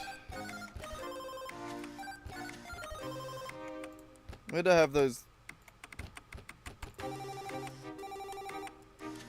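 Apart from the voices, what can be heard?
phone ringing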